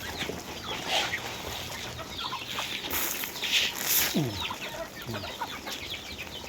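Hungry ducks and ducklings waiting for feed on a rural farm, giving scattered quacks and peeping calls over a steady outdoor background, moderately near and not very loud, with no talking.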